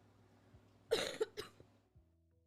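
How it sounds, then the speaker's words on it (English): A single sharp cough in a quiet room during an online video call, a short burst with a smaller follow-up catch, close to the microphone and alone. "I didn't mean to cough on camera."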